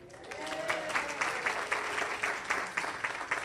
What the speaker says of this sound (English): I want you all to give them a big applause